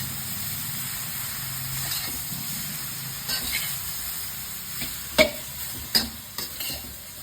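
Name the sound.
stir-frying vegetables for Japanese yasai itame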